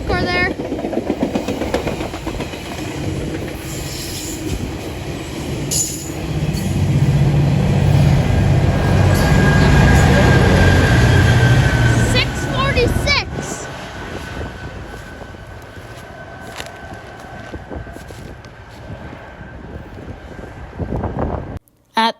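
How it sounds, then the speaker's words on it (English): A GO Transit commuter train with a locomotive and a cab car rolls past at a Whitby rail line, a loud rumbling swell that builds, holds for several seconds, then fades, with wind buffeting the microphone. "And here comes the Go train."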